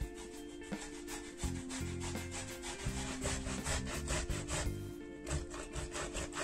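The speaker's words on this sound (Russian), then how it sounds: "Теперь мы берем терку и на терке натираем помидорки на мелкой терке." Fresh tomatoes are rubbed over a fine grater in quick, rhythmic rasping strokes, close and repetitive, with no voices.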